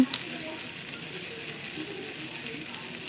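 Bay leaves and cumin seeds frying in hot oil in a pan for a potato, eggplant and tomato vegetarian dish, a steady soft crackling hiss heard close up with no talk.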